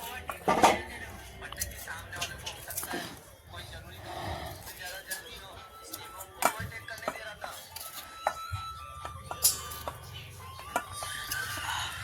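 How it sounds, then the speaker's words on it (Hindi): Knife chopping tomatoes on a board in a village kitchen during Holi, irregular close taps and clinks scattered through the clip, mixed with rustling and people talking in the background. "ये फिर से टमाटर काट रही हो?"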